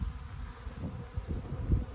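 Steady, dense buzzing of a honeybee swarm, a continuous drone with pulsing swells of many wings close by, no voices.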